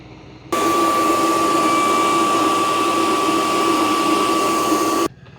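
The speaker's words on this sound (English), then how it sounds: "I'm super impressed how quiet this is. Sometimes self-cleaning modes can be super loud." A MOVA X4 Pro wet-dry floor mop runs its self-cleaning mode, a steady close motor whir with a high tonal whine that starts abruptly, holds evenly for about four and a half seconds, then cuts off.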